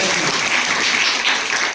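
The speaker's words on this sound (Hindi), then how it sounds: "ताली बजा दो बच्चों" Children in a school science quiz clap together in a loud, steady burst of applause that fills the space, then cuts off abruptly at the end.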